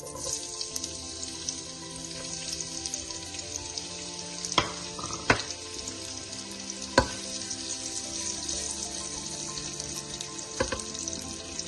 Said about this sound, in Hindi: मैं ऑयल में आधे प्याज को डालूंगी